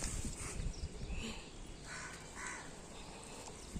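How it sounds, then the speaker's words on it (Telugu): Crows caw faintly a few times as they circle a tree outdoors, soft and distant, with no talking. "పక్షులు చూడండి ఎంత మంచిగా అనిపిస్తుంది ఇలా చెట్టు చుట్టూ ప్రదక్షిణలు చేస్తాయి"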